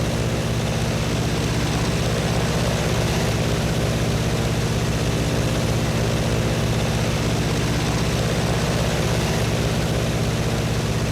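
A P-47 Thunderbolt radial-engine warbird cruising in flight while its landing gear is lowered, a steady loud propeller and engine drone filling the whole stretch with no distinct gear clunk standing out.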